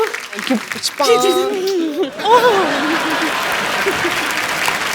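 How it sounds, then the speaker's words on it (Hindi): Studio audience applause at a comedy show, a dense wash of clapping with cheers and a host's voice talking and singing over it, steady and loud throughout. "एक बार हेजल के लिए जोरदार तालियां।"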